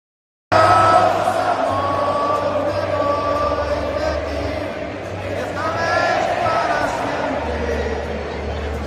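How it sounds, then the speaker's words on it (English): A World Cup stadium crowd roars and cheers before the match, a dense, steady wall of voices with rising whoops and yells, loud and continuous throughout. "Just like that, the crowd was ready."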